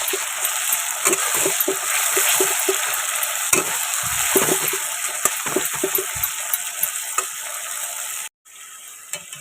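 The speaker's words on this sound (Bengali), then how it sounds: "এবার আমি টমেটো কুচিটা এর মধ্যে মিশিয়ে দিলাম দিয়ে ভালো করে একটু কষিয়ে নেব" Chopped tomato and masala sizzle in a hot pan while a spatula scrapes and stirs in frequent short strokes, close up, without any talking.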